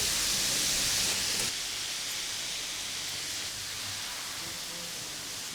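Pieces of General Tso chicken deep frying in hot oil, a loud, steady broadband sizzle that eases slightly after the first second and then holds evenly throughout.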